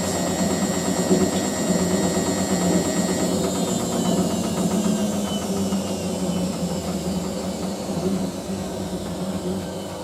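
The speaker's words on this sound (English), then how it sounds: "pump sounds alright now" The pump of a Hotpoint 9530W Electronic 1000 Plus washing machine drones steadily during a wash, a close, moderately loud mechanical hum with faint whining tones that slowly fade over ten seconds.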